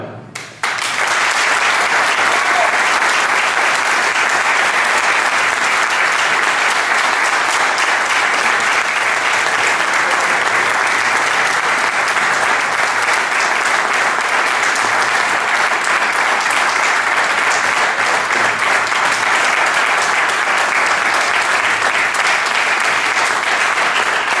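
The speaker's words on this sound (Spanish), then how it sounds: "tenemos que darle todos un fuerte aplauso por el esfuerzo que ha hecho también por estar estos días aquí con nosotros" An audience at a local history talk in Azagra gives long, loud, unbroken applause, dense clapping that carries on steadily for over twenty seconds.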